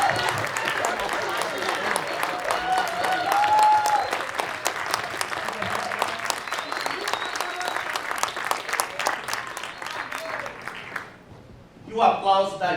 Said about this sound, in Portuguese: Eu peço a gentileza que vocês se ergam para aplaudir de pé